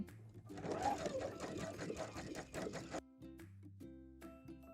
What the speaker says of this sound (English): now I'm gonna add my 2 rows of basting stitches here on the sleeve cap